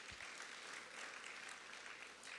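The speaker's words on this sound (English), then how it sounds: "A big round of applause to our President." Applause for the President from guests at a lunch with Visayas governors and One Cebu officials, a broad wash of clapping heard steadily throughout without pause.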